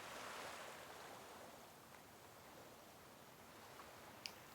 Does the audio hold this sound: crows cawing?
no